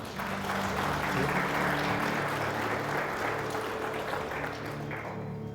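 A church congregation claps steadily in praise for several seconds, a dense continuous wash of hands with a voice carrying faintly underneath.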